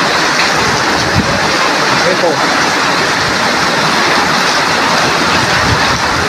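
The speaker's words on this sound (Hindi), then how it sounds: "बहुत जबरदस्त बारिश हो रहा है।" Heavy downpour pours down without letup outside a flooded home, a loud, steady broadband roar of rain and running water with someone speaking briefly over it.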